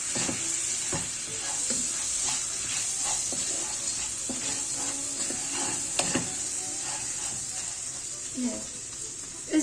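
Butter is stirred continuously in a pan as it melts, a steady sizzling hiss with frequent light scrapes and taps of the utensil, close by, and speech is faintly present.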